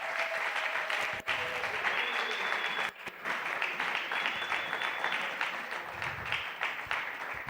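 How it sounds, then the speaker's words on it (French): A church congregation bursts into loud, sustained applause, with dense clapping from many hands filling the whole stretch at close range. "Est-ce qu'on peut acclamer très fort?"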